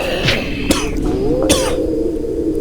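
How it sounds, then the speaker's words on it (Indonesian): A snowman character in the video game Pocong Hunter 2 gives three sharp, hoarse coughs at uneven intervals, clear and close over a steady game background tone with a faint sliding whine. "Kenapa pas ada boneka salju cungur itu pas batuk?"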